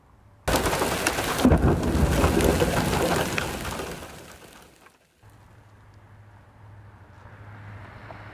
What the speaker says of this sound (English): you can hear that thunder and that hail coming down